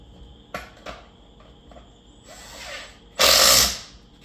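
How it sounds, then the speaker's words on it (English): A small impact driver fastening nuts during a germinator assembly, firing a short rattling burst near the end, preceded by a few faint clicks and a softer whir. "we're going to stick that in the socket, bring our little impact driver up"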